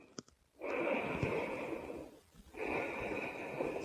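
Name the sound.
deep breaths during yoga flow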